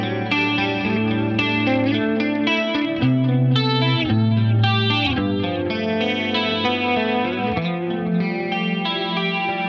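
Electric guitar run through distortion, chorus and compressor with a light delay, playing sustained, layered chords and melodic lines at steady loudness, close and full, with no talking.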